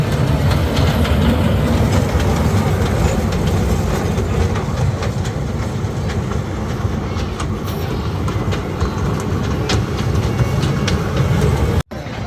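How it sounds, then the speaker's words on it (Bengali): A dragon train amusement ride at Gazipur Trade Fair rumbles steadily along its rails with a continuous clattering roar, loud and close, ending with a sudden drop near the end. "দেখতে পাচ্ছেন রেল লাইন ড্রাগন রেল"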